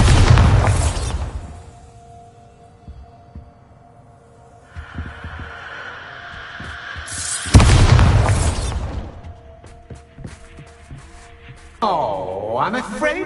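Bombarda blasts from Hogwarts Legacy burst out twice, each a loud booming hit. Between them is a long quiet stretch with a low hum and some faint tonal game sounds.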